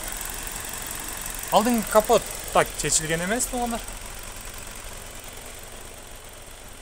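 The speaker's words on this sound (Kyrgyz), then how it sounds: "Мынакей мотордун үнүн угуңуздар туугандар, жакшы иштеп турат." A 2020 Kia Optima with a 2.0-litre engine and automatic gearbox idles with its hood open, giving a steady low engine hum while someone speaks over it briefly.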